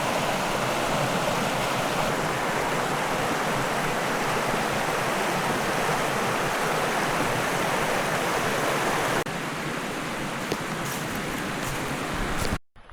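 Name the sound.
river rapids flowing on the Suwannee River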